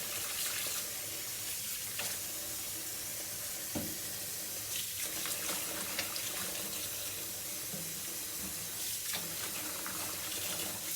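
Tap water runs steadily into a kitchen sink being filled for a baby bath, a continuous close splashing stream with small clinks and bumps of handling over it.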